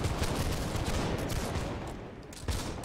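A musket volley in Holdfast: Nations at War, a dense, rolling crackle of many shots fired together by a line of infantry, loud and sustained before fading slightly.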